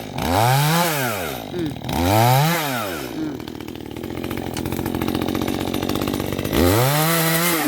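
A chainsaw revs in repeated rising-and-falling bursts, then settles into a steady, loud drone cutting a tree before revving up again.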